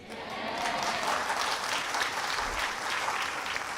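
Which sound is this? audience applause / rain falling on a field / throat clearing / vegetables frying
audience applause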